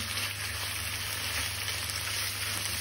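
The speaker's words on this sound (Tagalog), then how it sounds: "Halo-haloin lang natin hanggang Hanggang mag-brown siya yung karne." Meat stir-frying in a hot pan until browned, with a steady, dense, close sizzle that holds evenly throughout and no talking.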